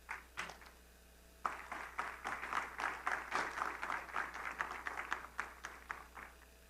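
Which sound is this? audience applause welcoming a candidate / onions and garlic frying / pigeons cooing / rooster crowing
audience applause welcoming a candidate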